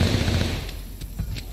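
Gunfire in the video game Call of Duty Vanguard, a dense burst of shots in the first half followed by a few sharper separate cracks, fairly loud with a low rumble underneath.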